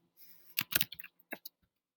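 A computer keyboard is typed on in a classroom lesson. Several crisp, close key clicks come in a quick uneven burst, then a few sparse taps before it goes quiet, with no talking over it.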